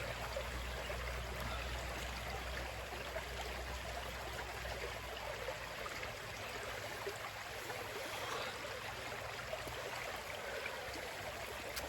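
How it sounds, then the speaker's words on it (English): A small river stream flowing steadily outdoors, a continuous broadband rush and trickle of water that stays even and unbroken throughout, with no voices over it. "So there's a little river just going down here."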